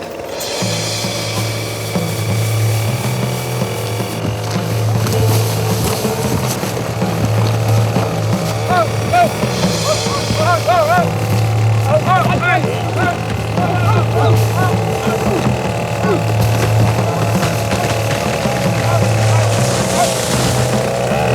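A steady low engine drone runs throughout, like a motorboat, with voices and other activity layered over it.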